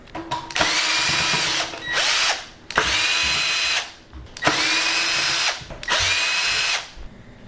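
Power screwdriver with a Pozidriv 2 bit unscrewing the feet of a Dualit toaster, four loud whirring bursts of about a second each with short pauses between, close up.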